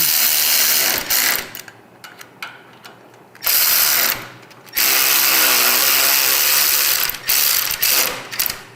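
A ratchet drives bolts into motorcycle fairing lowers during an install, bursts of rapid clicking and whirring in several runs separated by brief pauses, close and loud.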